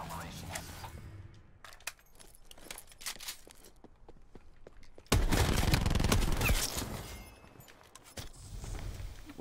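Black Ops 4 free-for-all gunfire runs as scattered shots and footsteps, then a loud rapid automatic burst in the middle, fading into sparser shots with faint game voices.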